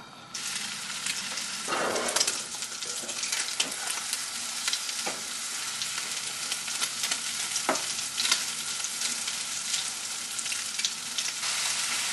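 Two eggs with yellow chives fry in a pan, a steady close sizzle with occasional scrapes and stirring clatters and no talk.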